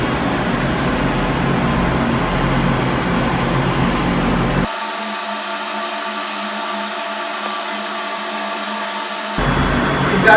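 A ship's refrigeration compressor runs with a steady, loud mechanical drone for the whole stretch. The low end turns muffled through the middle before the full sound returns.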